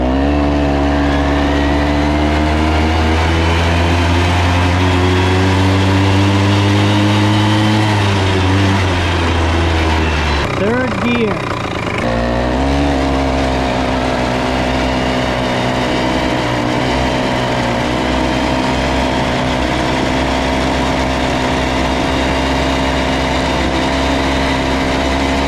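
A Rokon 2x2 Mototractor all-wheel-drive motorcycle rides in low gear, its engine droning loud and close with a steady throb, briefly dipping as it shifts from first to second before settling into an even pull.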